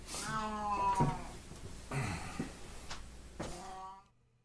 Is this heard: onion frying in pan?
no